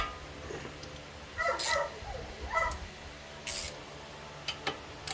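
A pet dog nearby whines and yips in short high-pitched bursts wanting attention, a few separate whimpers spaced over a few seconds against a quiet garage background with faint clicking.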